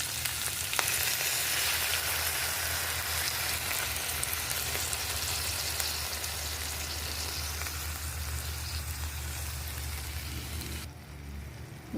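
Vinegar poured over string beans with garlic, onion and tomato frying in a pan for adobong sitaw sets off a loud, dense, continuous sizzle close by, which drops away abruptly near the end.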